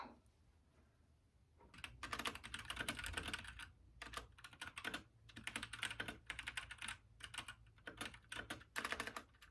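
Rapid clicking of a computer keyboard while a novel synopsis is typed, close and fairly quiet, coming in uneven bursts with short pauses between.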